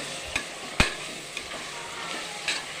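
Mushroom biryani masala sautés in a pan, a soft sizzle under a few quick stirring scrapes and taps, quiet and close.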